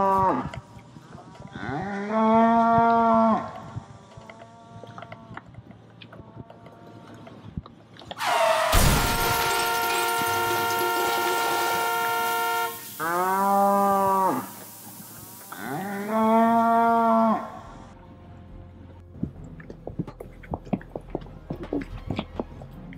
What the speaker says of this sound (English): A cow!